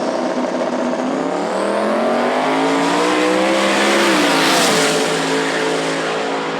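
Drag racing cars at Knoxville Dragway, Charlie Pride against Eugene Ogle in a second chance small tire shootout, roar loudly with rising engine pitch as they launch and pull away, a steady continuous blare throughout.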